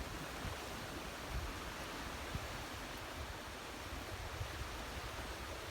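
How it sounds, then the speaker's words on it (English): Steady monsoon rain falling over clear coastal water beside a beach hut, a constant, even hiss that holds unbroken for several seconds, faint and diffuse with no voices. "and like after 2 hours, here comes the rain."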